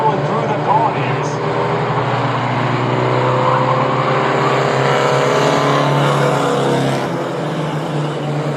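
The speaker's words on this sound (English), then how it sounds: "He's got that truck rolling through the corners." Mighty Trucks race around the corners of Star Speedway in a feature event, a loud, steady roar of several engines droning together throughout, swelling slightly as they pass.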